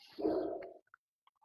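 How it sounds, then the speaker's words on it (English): A dog gives a single short bark at a distance in the background, then falls quiet except for a few faint clicks. "He's barking in the background"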